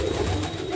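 Kagji pigeon chick making soft, close cooing calls that fill the short moment alone.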